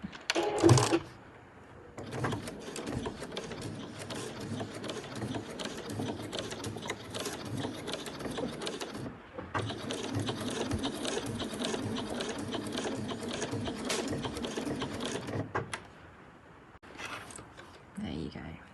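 Domestic sewing machine stitching the front flap of a backpack, running in two long steady bursts with brief pauses between, close and loud, with a person talking quietly at the start and end.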